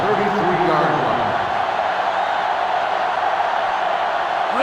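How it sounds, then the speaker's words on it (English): Stadium crowd roar from a sellout college football game in NCAA 06, a dense steady wall of cheering that stays loud throughout, with a commentator speaking over the start. "The sellout crowd is really making a difference now"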